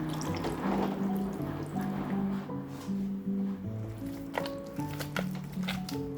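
Boiled potatoes are mashed with milk and butter into a puree, giving wet squelching and squishing strokes at close range, with soft clinks and drips between them.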